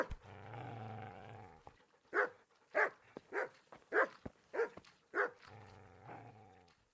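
A dog in the medieval video game Kingdom Come Deliverance gives a series of about seven sharp, evenly spaced barks and growly yips, framed by muffled talk before and after.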